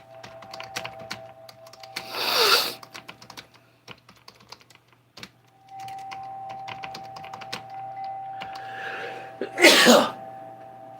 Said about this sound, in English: I felt that sneeze like in my spine